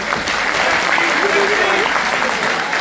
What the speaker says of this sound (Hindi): एक बार आप ताली बजा करके मुझे माहौल दें